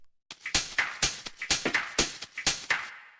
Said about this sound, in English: After that, we have this drum bus, which sounds like this